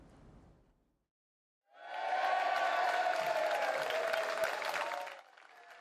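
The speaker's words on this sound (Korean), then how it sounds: "영국 보수 당사에 리시 수넥 총리가 도착하자 환호가 쏟아집니다." A crowd at the Conservative Party headquarters applauds and cheers as Prime Minister Rishi Sunak arrives. After a brief quiet gap, a loud, dense, steady wash of clapping and cheering rises and holds for about three seconds before dropping away.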